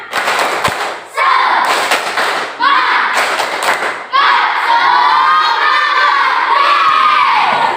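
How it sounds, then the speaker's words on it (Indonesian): Classroom children shout the tepuk semangat clapping chant, loud and close, with bursts of claps punctuating energetic group chanting that swells into sustained cheering. "Kita tepuk semangat dulu ya"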